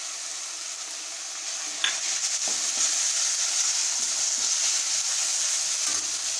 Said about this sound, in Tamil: எண்ணெயிலே வதங்கட்டும் இந்த மசாலா